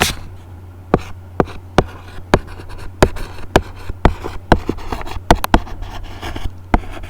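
Pen or pencil scratching across paper while a math exercise is worked out, a series of sharp short strokes and taps spread irregularly over several seconds, close and alone with a low steady hum underneath.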